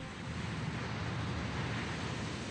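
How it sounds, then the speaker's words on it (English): A steady, loud rush of wind noise fills the clip with no breaks, a sudden gust of air used as a sound effect in the Yu Yu Hakusho anime fight scene. "what's this gust of air?"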